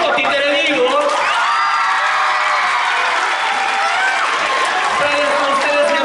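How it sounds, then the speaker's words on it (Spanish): A theater audience at a one-man puppet comedy show claps and cheers loudly, a dense continuous wash of applause with whoops and shouts over six seconds. "tienen que aplaudir así, eufóricamente así"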